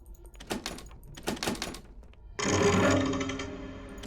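A door in the ghost game Paranormal Entities swings open with a sudden sustained creaking groan, preceded by a few soft knocks and thuds, loud and close, trailing off.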